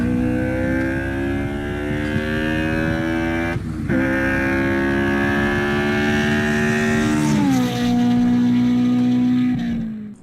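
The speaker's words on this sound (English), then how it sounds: "an air intake adds a cool noise to the car, like this example of a crazy Honda S2000" A highly modified Honda S2000 with an aftermarket air intake revs and drones at high pitch. The engine sound is loud and continuous, shifting in pitch with a brief dip partway through and another change of tone near the end.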